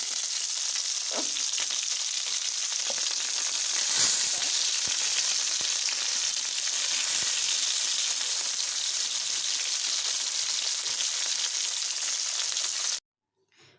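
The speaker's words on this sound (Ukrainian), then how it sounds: "і просмажимо їх ще на один бік" Saffron milk cap mushrooms sizzle steadily in a hot pan with a crackling, hissing fry, broken by a few brief clicks, then cuts to silence near the end.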